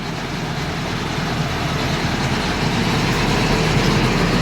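A homemade harvester's engine runs normally at a steady idle, a loud, continuous low rumble with no change in pace throughout.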